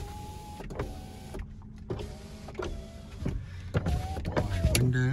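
Power windows on a 2009 Mercedes-Benz C300 4Matic whir up and down in several short motor runs inside the car, each ending in a thunk, fairly close and alone without talk.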